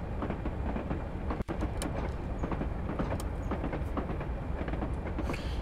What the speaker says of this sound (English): There's no diesel sound like it, is there?